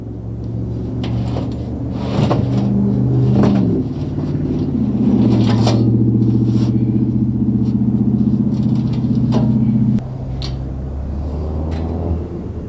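Portable generator running at a steady engine hum with a shift in pitch midway and a drop near the end, interrupted by scattered clanks and knocks nearby, with no voices.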